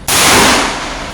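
A single loud, close gunshot at a firing range, a sharp crack followed by a decaying echo.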